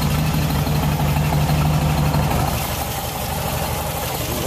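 A 1957 Beck Speedster's engine idles steadily as it warms up, a continuous close low rumble with an even hum and no talk over it.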